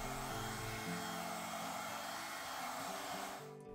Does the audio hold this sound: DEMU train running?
no